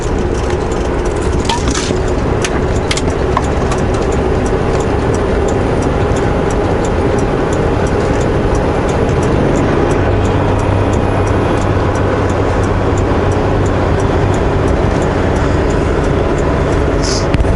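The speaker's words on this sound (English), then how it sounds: "That way my Jake brake on that lower setting is working" A truck engine with its Jake brake on the lower setting gives a steady, low droning rumble on curvy hilly roads, constant and close, with the service brake dragging lightly.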